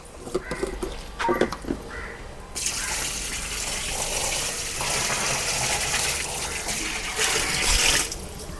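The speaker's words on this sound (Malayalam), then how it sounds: "ഇനി അടുത്തത് നമ്മൾ ഇതിലേക്ക് പാലാണ് ഒഴിക്കാൻ പോകുന്നത്" Milk pours into a container while panchagavya is being made: a few light knocks, then a steady, full rushing stream that runs for about six seconds before easing off.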